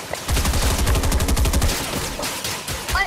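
Rapid gunfire in the video game Fortnite, a fast stream of close, loud shots that thins out into scattered bursts toward the end.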